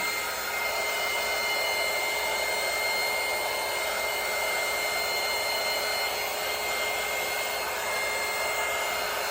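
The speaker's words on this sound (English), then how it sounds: "And then I turned on my heat gun, which I got on Amazon, I think for 12 bucks, something like that." A cheap heat gun blows continuously at close range to dry coffee-stained paper, making a steady, loud, unbroken whooshing roar that barely changes.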